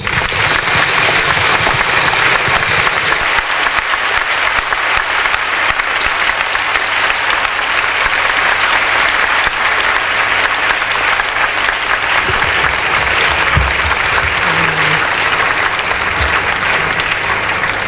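Loud, sustained applause from a large audience at a national policy launch in Ghana, continuous clapping that carries on for a long stretch.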